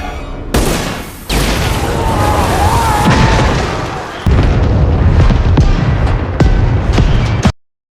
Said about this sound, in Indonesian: Ledakan besar pun menghancurkan Fincher dan tempat itu.